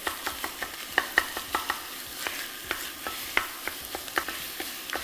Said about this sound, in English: And you want to brown the sausage until you don't see any more of the soft pink.